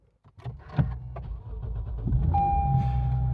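A car is started with a foot on the brake: clicks and mechanical clunks give way to a rising engine hum that settles into a steady idle, with an electronic chime tone sounding near the end.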